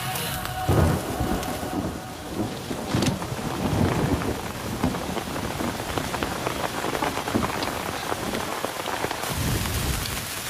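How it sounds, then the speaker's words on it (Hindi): Steady rain pours over a surface with low rumbles of thunder rolling underneath, a dense continuous wash of sound throughout. "यहाँ पर बारिश हो रही है"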